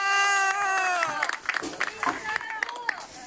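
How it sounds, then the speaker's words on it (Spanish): A crowd applauds and cheers as a recovered COVID-19 patient is brought down, with scattered claps and shouts under a loud, close voice talking over them. "Escuche los aplausos"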